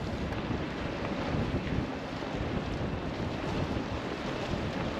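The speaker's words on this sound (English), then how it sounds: "It's kind of windy, it might be hard to get out of port today." Strong wind buffets the microphone in a constant, roaring rush at a port in Skagway, Alaska, with no pauses and no voices.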